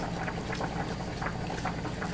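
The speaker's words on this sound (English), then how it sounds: "we are heating it to boiling so that it can warm up" Salisbury steak gravy coming to a boil, with a steady close bubbling and popping texture running continuously, scattered soft pops over a low simmering rumble.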